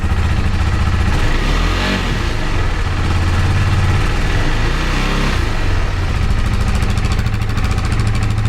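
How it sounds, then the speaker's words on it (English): A KTM RC 390 motorcycle engine idles loudly and steadily after an oil change, with a couple of gentle revs rising and falling around the rumbling idle, heard up close with no talking. "We don't want to over rev it. We just want to let it idle, slowly bring it up."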